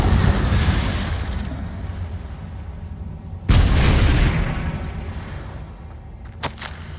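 Fiery Confringo spell blasts in the Hogwarts Legacy video game: a loud booming explosion fades into a rumbling tail, then a second sharp blast erupts midway and decays, with a small pop near the end.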